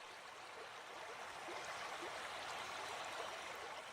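Flowing river water, a steady, bright, continuous rushing hiss with light gurgling texture, even and moderately close, with no voices.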